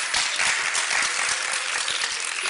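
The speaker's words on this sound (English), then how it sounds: "Give yourself a round of applause." A conference audience claps steadily, a dense, continuous wash of applause at even loudness throughout.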